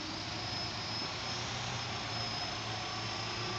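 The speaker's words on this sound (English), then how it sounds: "with the brushless motor system, we'll see how much power we have. So we'll throttle up." Brushless electric motor of a modified Walkera Lama 400 radio-controlled helicopter built as an EC-135, throttling up: a steady, loud, close whine with rotor rush that holds constant throughout, no voices.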